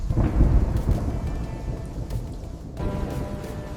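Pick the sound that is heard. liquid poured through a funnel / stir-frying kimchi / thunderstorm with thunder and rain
thunderstorm with thunder and rain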